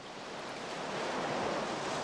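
Water waves wash at a boat on the shore, a steady soft broadband rush that swells slightly, heard alone at moderate distance with no talking.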